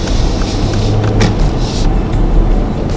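A 2017 Mercedes-Benz GLS 450 SUV cruising at low speed on local roads, with a steady, loud broadband road and cabin rumble throughout and no distinct events.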